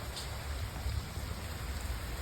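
Heavy, steady rain pours down in a continuous dense roar, a torrential downpour with no voices over it.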